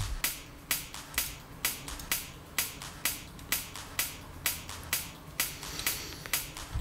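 A percussion loop with sidechain compression plays about fifteen crisp, evenly spaced snappy hits, each followed by a slight dip and swell in the underlying mix as the compressor ducks it.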